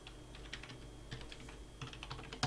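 A password is tapped out on a computer keyboard, a quick run of soft, close key clicks in a quiet room with no talk.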